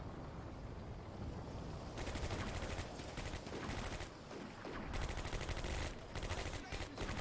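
Dense, rattling bursts of gunfire from a World War II tactical game set in the Stalingrad suburbs. Sustained fusillades run almost nonstop, with a few short pauses, over a constant rumbling background.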